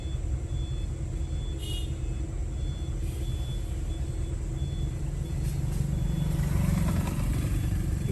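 Steady road rumble from inside a car as trucks pass it on the road, a low continuous drone that swells toward the end as a heavy vehicle draws near, with faint high whines, no talking.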